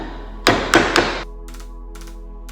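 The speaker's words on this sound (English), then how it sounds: "I don't want to put a whole lot of pressure on this wood or on this chisel" A hand chisel makes three quick sharp taps into wood as a dado is cut by hand, followed by quieter faint knocks.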